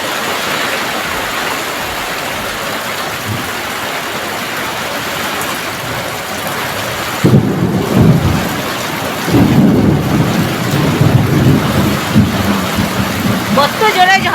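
Steady rain hisses during a thunderstorm, and deep rumbles of thunder build loudly about halfway through and keep rolling to the end.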